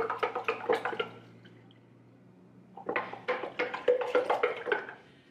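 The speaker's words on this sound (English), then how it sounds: "And then we're gonna pour our ice in." Ice cubes poured into a container of homemade lemonade clatter and clink in two close, lively bursts separated by a short quiet pause.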